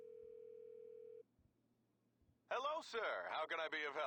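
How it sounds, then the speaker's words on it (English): Phone dialing tone in GTA Online, a steady electronic tone for about a second, then a pause, followed by loud game chatter and sound effects. "But calling here on the phone."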